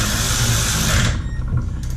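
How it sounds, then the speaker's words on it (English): A power tool whirs steadily while tightening bolts on the wheel of a 2008 Yamaha Zuma 125 scooter, then stops and gives a short, quieter burst at close range. "I've loosely put everything in, now I'm tightening it back up."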